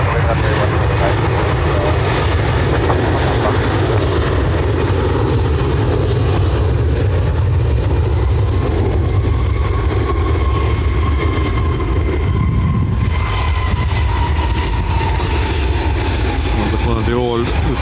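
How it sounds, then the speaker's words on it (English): An old Lufthansa A321 airliner takes off at Dublin Airport, its loud engine roar continuous and broad with a rising whine, while a voice talks over the noise. "That's one of the old Lufthansa 321s. Seems noisy enough."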